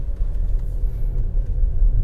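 Suzuki Grand Vitara 1500 cc hybrid, nearly new, rolling over a rough, broken road, giving a steady low engine and road rumble with small bumps throughout, close and moderately loud.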